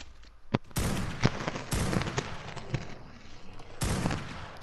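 Rapid bursts of gunfire in a 2-versus-2 PvP video game, shooting at a giga dinosaur, loud repeated volleys with short gaps across the whole stretch.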